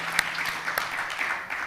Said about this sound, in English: another round of applause for our fireside chat